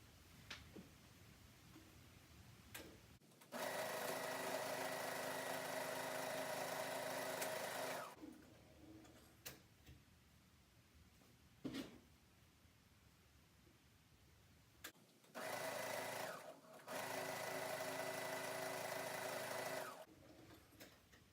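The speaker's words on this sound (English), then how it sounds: "I'm going to go to my sewing machine and just sew a line straight across." A sewing machine runs in two bursts of rapid, steady straight stitching across quilted Christmas stocking fabric, with short quiet pauses and small clicks between them.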